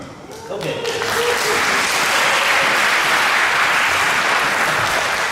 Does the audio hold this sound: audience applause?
yes